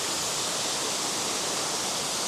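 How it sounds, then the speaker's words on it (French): The Vérine waterfall in the Cézallier, Auvergne, pours in a loud, continuous close-up rush of falling water, an even hiss with no voices or breaks. "l'eau qui coule de la cascade de la Vérine"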